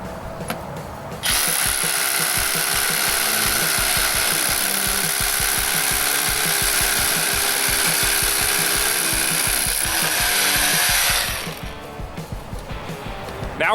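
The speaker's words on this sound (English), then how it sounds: "The first hole that I'm going to drill is going to be a 3/8 inch hole." Milwaukee 2712 M18 FUEL SDS-Plus cordless rotary hammer drilling a 3/8 inch hole into block, a loud continuous grinding hammering roar lasting about ten seconds, then cutting off abruptly to faint handling sounds.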